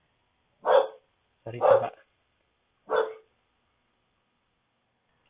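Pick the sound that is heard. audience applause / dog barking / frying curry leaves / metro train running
dog barking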